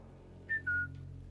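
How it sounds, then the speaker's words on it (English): Two short, sharp human whistles, a rising note followed by a longer steady tone, used to lure an enemy in the World War II stealth shooter Sniper Elite 5, heard over a low ambient hum. "So we're going to whistle again."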